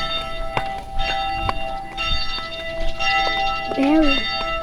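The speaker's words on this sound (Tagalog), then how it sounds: "Bell." Church bell ringing on a Padre Pio feast day at San Pablo, a few bright resonant strikes with lingering overtones amid crowd noise, with people talking nearby throughout.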